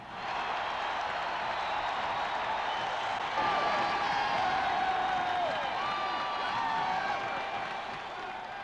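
A roaring crowd of about 76,000 at LSU's Death Valley football stadium, a dense, sustained wash of cheering and whooping heard from a distance, steady throughout and swelling slightly midway.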